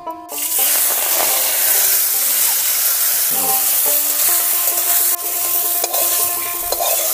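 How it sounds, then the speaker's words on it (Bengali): Drumstick flowers fry lightly in hot oil in a wok, making a loud, steady sizzle with a hiss that runs almost the whole way through. "কড়া গরম হয়ে গিয়েছে, এখন কড়াতে তেল দিয়ে দেব। যুক্তি ফুলকোটা হালকা ভেজে নেব।"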